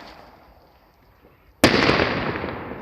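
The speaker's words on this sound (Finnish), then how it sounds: "Ilotulitusraketti." A fireworks rocket bursts suddenly and loudly on New Year's Eve, 2015–2016, after a quiet lead-in, and its explosion rolls on into a sustained crackling roar.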